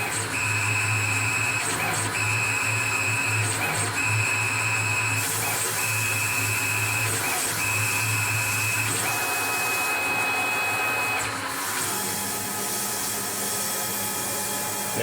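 A Tormach lathe cuts threads on titanium screws, producing a steady mechanical hum with a high, intermittent whine that starts and stops in repeated passes, then shifts in pitch near the end.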